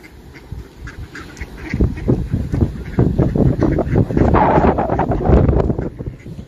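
Birds close by give a busy run of quacking calls, growing louder and denser, with wind buffeting the microphone, beside muddy ground.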